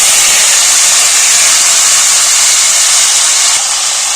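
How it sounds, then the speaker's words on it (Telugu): A mixer grinder runs at full speed on tomatoes and onions, a loud, unbroken whirring roar close by that holds steady throughout, with no voices. "బాగా కడిగి మిక్సీలు పట్టండి"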